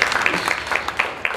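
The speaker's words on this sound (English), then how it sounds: "Give a round of applause." Audience applause at a summit event in Nashville, scattered individual claps heard close and fairly loud over a short burst.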